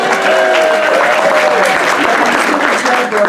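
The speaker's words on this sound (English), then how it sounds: "Go ahead, clap." Audience applause at a Comic-Con mock trial panel, a dense steady wash of clapping from a large crowd that continues throughout, with faint voices mixed underneath.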